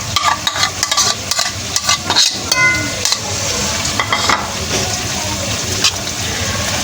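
Half a kilo of yogurt going into raw meat in a pot for Hyderabadi kacche gosht biryani, a loud wet sloshing and sizzling with irregular scraping and stirring bursts throughout.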